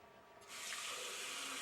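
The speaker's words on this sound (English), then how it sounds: "I'm going to add more water because I'm going to cook my pasta right in with these beans." Tap water running into a pot of beans to make pasta e fagioli, a steady, close rushing splash that starts abruptly and continues without a break.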